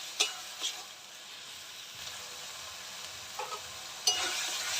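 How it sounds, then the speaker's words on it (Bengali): Spices sizzle and fry in oil in a pan for a prawn malai curry, a steady close hiss broken by a few stirring scrapes and a louder burst near the end. "মশলা ভাজা ভাজা হয়ে গেছে বন্ধুরা।"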